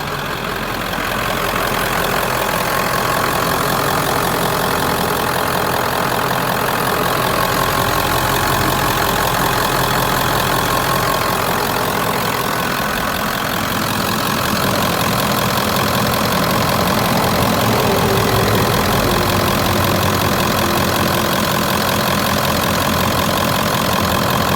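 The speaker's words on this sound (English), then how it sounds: "let me get out and let you hear it idle" A 1996 Ford F-250 XLT 4x4 with a 7.3L Powerstroke diesel idles close by, a loud, steady clattering rumble that keeps an even rhythm throughout.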